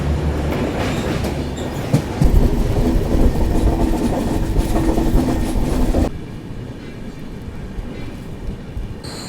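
An Indian Railways express train runs along the track with loud, steady rumbling and clickety-clack from the wheels, which drops to a quieter, duller roll partway through.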